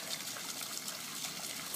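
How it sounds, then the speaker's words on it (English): Water squirts from a leaking gasket on a Polaris qwik connect fitting under pressure, giving a steady, fairly faint hiss and spray with no pauses. "The noise you hear is water shooting out from around the gasket."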